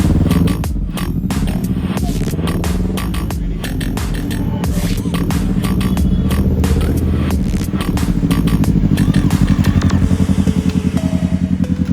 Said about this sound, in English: Finally, Hulk took the bike out for a test spin to check if everything was in order